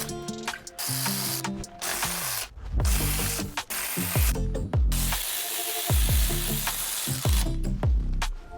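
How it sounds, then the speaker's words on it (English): Lower differential cover bolts on a RAM 2500 Power Wagon loosened with a socket wrench, giving repeated close clicking ratchet bursts with pauses between turns, plus a low background rumble. "Start off by removing the lower 6 differential bolts."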